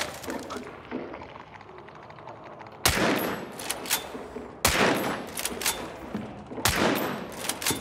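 Rapid bursts of video-game gunfire crackle in sharp clusters, with three loud volleys of fast repeated shots starting a few seconds in, separated by brief quieter gaps with faint background noise.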